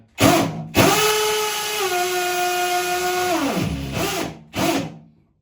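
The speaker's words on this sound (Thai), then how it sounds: "เจาะอีกให้ดูอีกรูนึง" Power drill boring a screw hole in ceramic tile: brief whirring bursts, then a sustained high whine that dips in pitch as the bit bites, winding down, followed by another short burst, loud and close.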